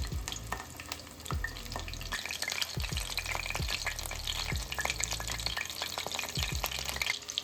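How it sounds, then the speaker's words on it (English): Steady hiss and crackle of chicken frying in a hot pan, with occasional scraping clatter, close and continuous without voices. "We're just going to let it fry on each side about 1 to 2 minutes."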